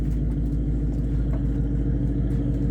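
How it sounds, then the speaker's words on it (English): A car with an open track exhaust starts up into a loud, steady engine rumble with a deep, throaty exhaust note, running continuously and close by. "Listen to that exhaust."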